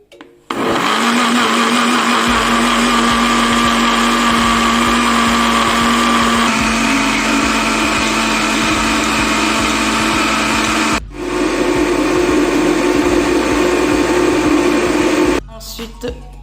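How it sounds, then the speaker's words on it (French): A blender whirs loudly as it purées passion fruit for jam, a steady motor drone that runs for several seconds, pauses briefly and restarts, then cuts off near the end with a short gap. "Et là, je vais mixer."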